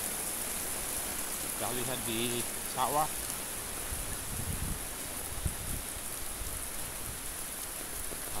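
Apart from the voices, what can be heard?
heavy rain falling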